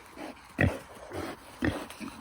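Two short, loud grunts from backyard pigs being fed watermelon rinds, about a second apart, close by, with a low background hum and no talking.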